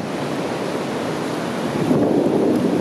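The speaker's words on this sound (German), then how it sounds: "Ja, das Wasser, das hat ganz schön viel Power." The Tiroler Ache river rushes past in a constant broad roar of turbulent water, loud and close, with wind buffeting the microphone and a slight swell toward the end.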